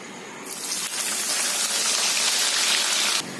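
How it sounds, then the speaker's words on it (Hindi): Chopped onions drop into hot oil with a sudden, loud, hissing sizzle that holds steady for about three seconds and then cuts off abruptly. "तो पहले हम थोड़ी सी प्याज डाल देते हैं"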